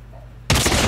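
A sniper rifle shot from the Call of Duty video game cracks in abruptly after a quiet lead-in, followed by a dense, loud burst of gunfire and battle noise that continues to the end.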